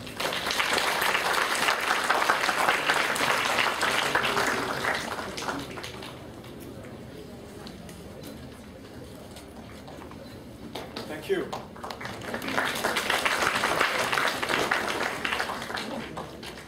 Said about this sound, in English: Ladies and gentlemen, please, round of applause.